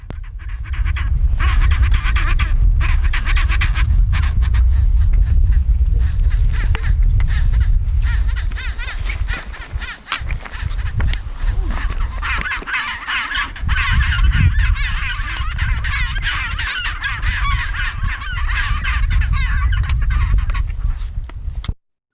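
A dense penguin colony in Antarctica calls loudly and continuously, one bird starting a chant the rest mimic, overlapping honking cries rising and falling together for over twenty seconds with no pause.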